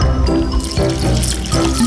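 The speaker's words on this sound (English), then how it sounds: "Now watch what happens when I add water!" Water poured during a simple DIY science experiment, a loud close splashing pour with dripping and trickling that goes on throughout.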